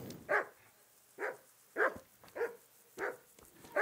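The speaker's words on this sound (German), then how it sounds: "Nur die Hunde sind da." Dogs barking in the medieval role-playing game Kingdom Come: Deliverance, six evenly spaced single woofs about every half second, moderately close, with no voices over them.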